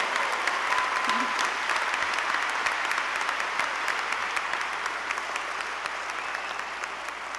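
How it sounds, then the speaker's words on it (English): Sustained, dense applause fills a hall at an honors convocation for students, steady and loud throughout with no break, a large audience clapping together. "One more hand of applause for all of these brilliant, brilliant students"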